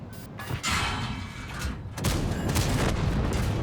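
Tank cannon fire in a video game, with the T-62A among the tanks: a dense rumbling barrage with heavy booms and a sharp blast at about two seconds, loud and continuous throughout.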